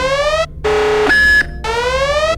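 A loud electronic base alarm from the Roblox game Stargate Explorers, with rising siren sweeps alternating with a steady pulsing tone in a repeating cycle.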